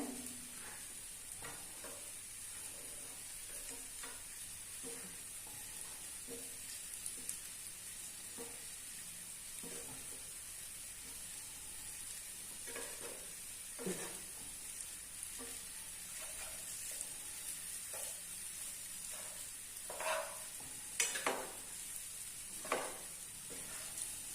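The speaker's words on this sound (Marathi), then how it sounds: "आता वांगी आपण परत उलट्या साईडने परतून घेऊया" Quiet, steady sizzling of brinjal frying in a pan, broken by occasional scraping and clinks as the pieces are stirred and turned.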